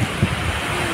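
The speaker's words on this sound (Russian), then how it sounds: "Волны очень сильные, они тебя толкают, подбрасывают." Strong sea waves surge at Kata beach in Phuket, a brief rough rumble of surf mixed with heavy wind buffeting the microphone.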